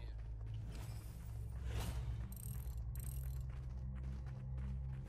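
A mechanism being turned with a wrench in the Fortnite game, giving ratcheting, clicking mechanical sounds with a brief whoosh over a low background hum.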